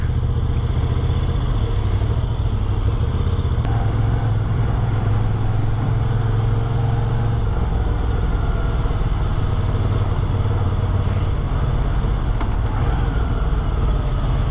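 Moto Guzzi V7 II motorcycle engine running steadily with a deep, continuous rumble, close and loud for the whole stretch, with no voices over it.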